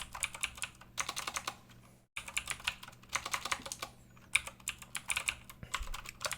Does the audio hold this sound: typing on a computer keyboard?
yes